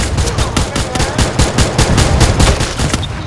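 Rapid automatic gunfire in the Free Fire shooter game, a loud steady burst of closely spaced shots with no pauses, no talk.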